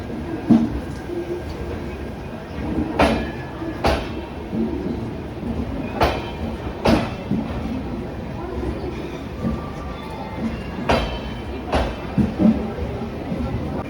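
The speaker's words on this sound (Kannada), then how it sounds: "ಗಾಂಧಿಧಾಮ ಸೂಪರ್ ಫಾಸ್ಟ್ ಎಕ್ಸ್ಪ್ರೆಸ್ ಇವಾಗ ಸೆಂಟಿಂಗ್ ಮಾಡ್ತಾ ಇದ್ದಾರೆ ನೋಡಿ KSR ಬೆಂಗಳೂರು ಸಿಟಿ ಸೆಂಟ್ರಿಂಗ್ಗೆ" Gandhidham Superfast Express shunting at KSR Bengaluru station, a low rolling rumble with sharp metallic clanks and bangs recurring every second or two, heard near.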